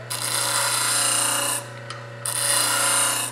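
A plane iron's bevel is ground on a powered grinder, giving a steady, loud, close abrasive hiss over the motor's constant hum. It breaks off briefly and then resumes.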